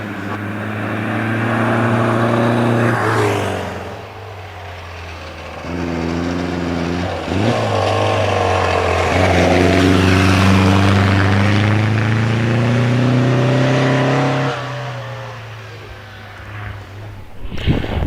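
Supercharged Richard Bolster Special vintage car at Prescott Hill Climb, its engine revving loudly through several rising bursts and gear changes as it launches, strong and close for most of the run before fading, with no talk.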